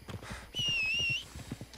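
Horse hooves in the video game Red Dead Online clip-clop in a steady, fairly quiet rhythm, with a high whinny rising over them midway.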